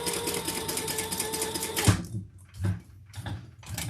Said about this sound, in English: These will be sewn with another seam, but you're just basting them in place.